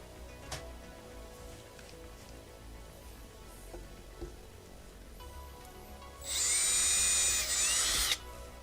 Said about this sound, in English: I'm drilling through the magnet